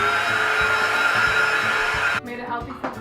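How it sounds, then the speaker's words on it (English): A newly bought household vacuum cleaner running with a loud, steady motor whine, cutting off abruptly near the end and leaving a faint rumble. "Bought a new vacuum."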